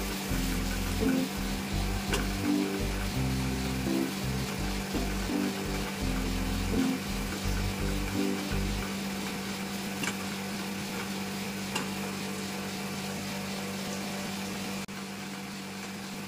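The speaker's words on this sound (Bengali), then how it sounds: "এর মধ্যে আদা রসুন লঙ্কা বাটা একসাথে আছে দিয়ে দিলাম। নাড়তে থাকবো ভালো করে।" Ginger, garlic and green chili paste frying in hot oil while being stirred, with steady close sizzling and occasional scraping and knocks from the spoon during the first half, settling into a continuous sizzle.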